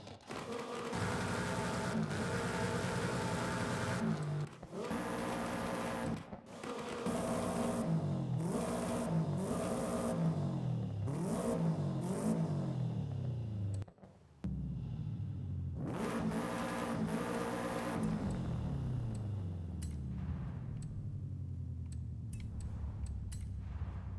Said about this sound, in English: when you upgrade your car, it changes the sound